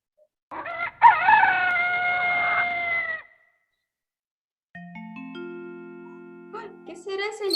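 A rooster crows loudly with one long, harmonic cock-a-doodle-doo, followed after a pause by a steady tonal sound.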